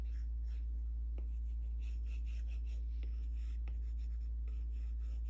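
Soft, close rubbing strokes of an eraser clearing unneeded drawn lines on paper, repeated in short bursts over a steady low electrical hum, with a few small taps.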